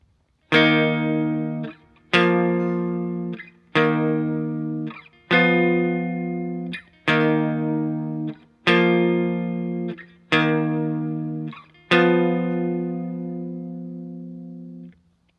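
A distorted electric guitar plays a riff: eight ringing power-chord hits, evenly spaced and repeating in a steady pattern. Each chord sustains and decays before the next, with short muted scrapes between them, close and alone.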